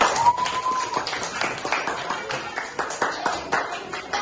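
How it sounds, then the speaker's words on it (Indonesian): Students clap together in a classroom, an irregular patter of close, moderate claps lasting several seconds, with a brief whistle-like tone early and some voices mixed in. "Tepuk tangan."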